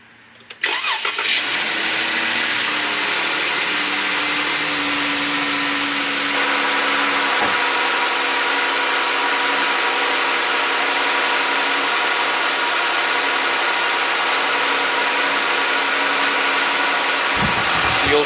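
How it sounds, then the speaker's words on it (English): A Jeep Grand Cherokee WK2 with the 3.6 Pentastar engine cranks briefly and catches, then settles into a steady, even idle that runs on for many seconds, close and continuous with no talking. "So let's go ahead and fire it up,"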